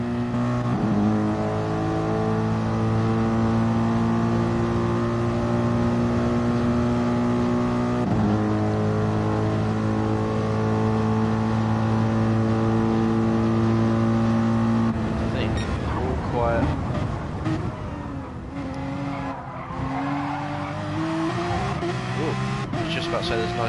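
A race car engine at Le Mans, heard near and loud with strong harmonic tones held at high revs, then shifting through gear changes and pitch sweeps in the later part.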